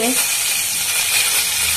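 Winter vegetables (spinach, peas, tomato, cabbage, papaya and green chilli) sizzle and fry in a kadai with cumin seeds, a steady loud hiss with no talking.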